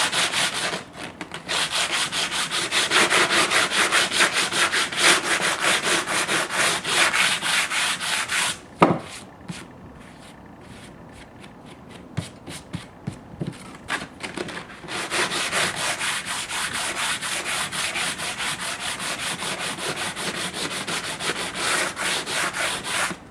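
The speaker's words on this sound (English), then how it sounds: "I'm going to go ahead and just angle this file just to give me a small bevel here." Hand file drawn along the edge of a Formica laminate to cut a small bevel, with steady repeated rasping strokes, close and fairly loud, a brief pause with a few light taps in the middle before the strokes resume.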